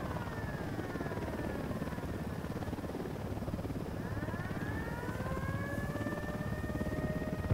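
Helicopter approaching in Ghost Recon Wildlands, a continuous rotor and engine drone with rising and falling whine that grows slightly louder over several seconds, with no talking.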